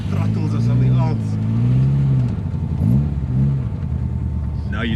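A Datsun 140Y fitted with throttle bodies pulls away and gains speed, its engine rumbling and rising in pitch up close while people talk over it.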